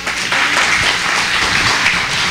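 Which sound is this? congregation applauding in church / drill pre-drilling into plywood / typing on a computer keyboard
congregation applauding in church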